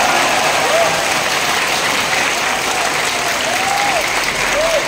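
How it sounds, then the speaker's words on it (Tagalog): Loud, sustained applause from a large audience at an anniversary event in Iloilo City, a dense roar of clapping that continues without a break, with faint voices mixed in. "Kasi yung palakpak niyo, pagtukoy sa Diyos, parang tunog ng buhos ng malakas na ulan."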